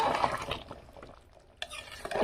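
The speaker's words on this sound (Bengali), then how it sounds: "এবার ভালো করে আমি নেড়ে চেড়ে নেবো।" A spoon stirring rooster chicken curry with garam masala in a pressure cooker, soft scraping strokes with a sharp clink of metal partway through, close and moderately loud.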